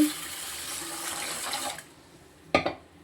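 Water pours from a tap into a bowl of basmati rice set to soak, a steady splashing stream for under two seconds, then a couple of short sloshes.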